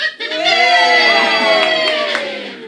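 An indoor audience cheers and shouts together in one sustained burst of mixed voices, loud and close, fading slightly toward the end.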